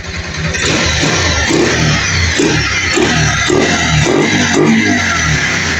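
A Rusi Rouser 180 motorcycle engine runs close by with a steady, throbbing mid-pitched drone and slight surges in revs, heard alone without talk.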